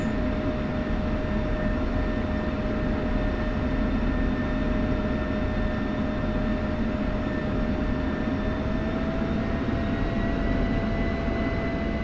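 Aircraft taxiing to rearm and refuel pads at the start of runway 23 in a flight simulator game, a steady droning engine hum with sustained whining tones, constant and unbroken throughout, with no talk.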